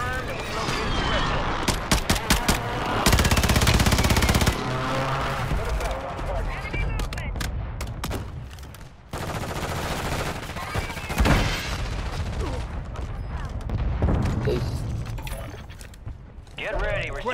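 Gunfire in the video game Call of Duty: Warzone rattles in rapid, loud bursts mixed with mechanical clacks and crashes over about seventeen seconds, with voices talking between and over the shots.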